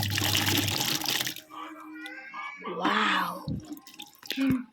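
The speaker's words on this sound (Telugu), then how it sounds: "ఒకటికి నాలుగైదు సార్లు అయితే కడిగేసుకోవాలి ఫ్రెండ్స్" Jujube fruits being washed by hand in water, with swishing, sloshing and dripping splashes in bursts, close by, under someone talking.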